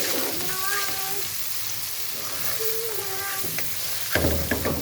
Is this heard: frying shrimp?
yes